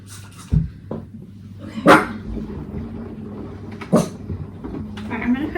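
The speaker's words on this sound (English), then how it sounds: "What are you barking about?" A dog barks a few times at irregular intervals, moderately close, amid household clatter and background noise.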